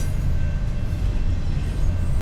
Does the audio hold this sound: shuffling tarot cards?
no